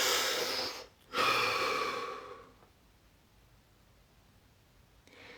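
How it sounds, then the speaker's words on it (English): A slow, deep breath drawn in and let out close to the microphone during a guided session, a strong airy inhale broken by a brief pause, then a long fading exhale into near silence. "Deep breath."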